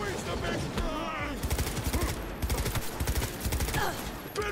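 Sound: gunfire from a big gun in the video game Cyberpunk 2077

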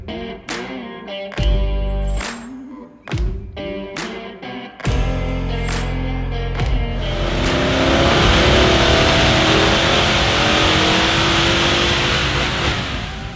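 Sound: supercharged Nissan Y62 Patrol running on a dyno

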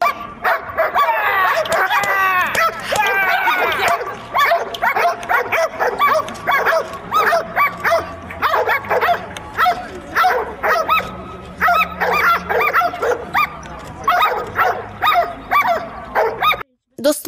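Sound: police dogs barking

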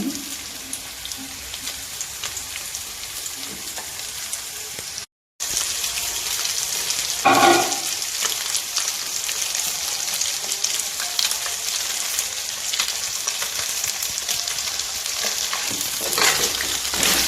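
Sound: goat meat and blood pieces frying in a pan

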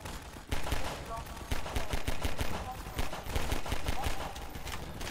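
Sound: gunfire in a video game, friendly fire

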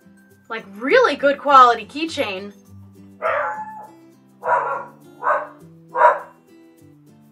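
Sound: dog barking

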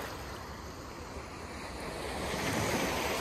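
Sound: sea waves on a wild beach in Sochi

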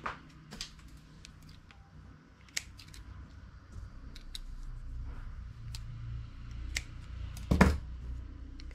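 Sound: cutting knitting yarn with scissors

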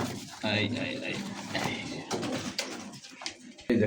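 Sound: pigeons cooing

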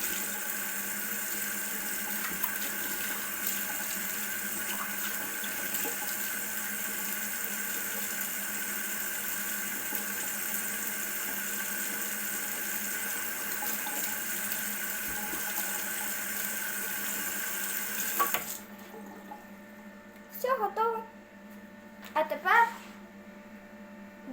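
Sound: water running from tap

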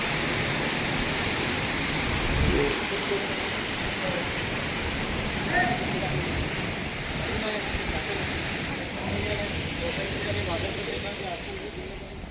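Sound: water flowing from the mouth of a Nandi statue at a temple

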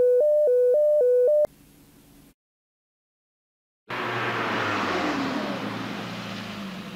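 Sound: first Volkswagen Golf being test driven

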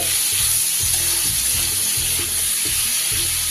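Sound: tomatoes frying in oil

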